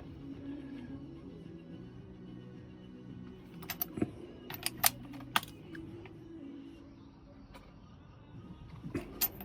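A wrench gives the spark plug a final tightening on a Vauxhall Mokka 1.4 engine: quiet clicks and a few sharp metallic ticks over a low steady hum, close and without speech.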